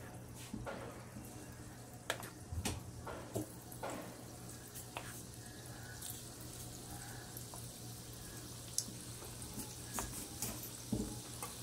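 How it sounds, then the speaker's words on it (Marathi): Pakora batter dropped into hot oil in a pan for kadhi pakode, faint crackling sizzle with scattered clicks and clatter under a low steady hum, quiet and without talk. "पॅन मध्ये तेल घालते, पीठ भिजलेलं आहे भजीचं पकोड्याचं, तेल तापलेलं आहे, त्याच्यामध्ये आता हे एक सोडायचे आहेत"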